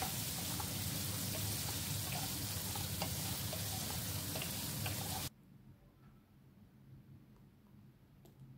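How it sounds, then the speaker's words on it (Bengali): Potatoes frying in hot oil with cumin, dried chilli and asafoetida over a low flame, a dense steady sizzle that cuts off abruptly to a quiet low simmer. "তেলটা গরম হলে জিরে, শুকনো লঙ্কা আর হিং দিলাম। ফোড়ন থেকে সুন্দর গন্ধ বের হলে কেটে রাখা আলুগুলো দিয়ে দিলাম।"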